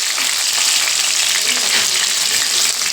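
Garlic and green chillies frying hard in oil, a loud, dense and continuous crackling sizzle close up that holds steady throughout, with no talking.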